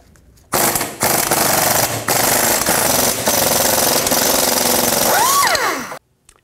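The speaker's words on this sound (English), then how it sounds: "Take these two nuts off right here. Use a 13 millimeter socket." A loud pneumatic impact wrench with a 13 mm socket hammers at exhaust nuts on a 2007-16 Chevy Traverse in several long rattling bursts with brief gaps, ending with a rising and falling whine as it spins down.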